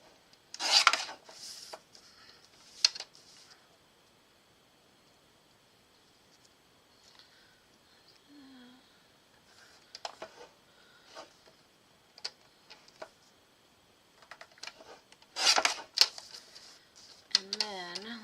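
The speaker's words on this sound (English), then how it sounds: "let's trim this just a bit" A paper Christmas card is trimmed with a cutting tool, making short scraping and rasping bursts separated by quiet gaps, near and moderately loud, with faint speech in between.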